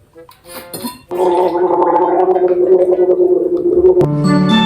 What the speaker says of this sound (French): Je vais boire un petit coup d'eau